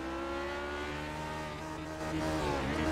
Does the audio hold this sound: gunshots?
no